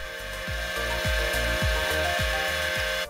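Small motor of a Project Mc2 electric styling head toy whirring steadily and loudly up close, with a repeating rubbing, grinding rhythm about twice per second throughout.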